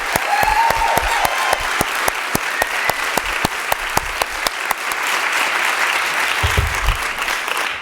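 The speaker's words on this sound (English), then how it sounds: "a round of applause again for Vicki Hendrickson" A round of applause for festival founder Vicki Hendrickson at a book and reading festival, with several distinct loud claps up front over a broad crowd clapping that thins out toward the end.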